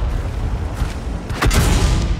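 Tank gun fire in World of Tanks from a Vz. 71 Tesák autoloading double-barrel tank destroyer, a heavy boom with a sharp blast partway through over a constant rumbling engine and battle noise.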